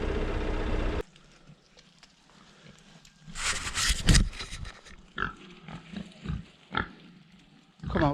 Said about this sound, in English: Pigs all over the yard.